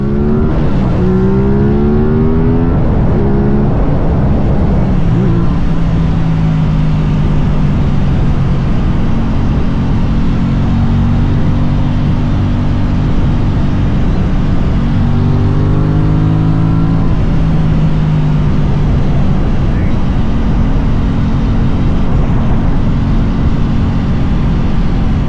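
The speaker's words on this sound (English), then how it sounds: "the induction sound is absolutely intoxicating" An Aprilia RS660 motorcycle engine roars loud and close with a strong induction sound, rising through revs in pulls with falling pitch at shifts, continuous throughout with no talk.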